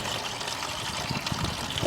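Coolant trickles slowly from the radiator drain of a Jaguar X-Type during a head gasket repair, a close, steady watery dribble with soft splashes throughout.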